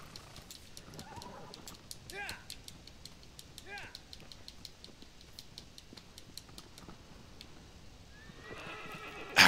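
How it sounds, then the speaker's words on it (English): In the video game Shadow of the Colossus, a horse whinnies twice between steady galloping hoofbeats, with a rising whinny near the end and a sudden loud burst to close. "you are the worst horse in gaming."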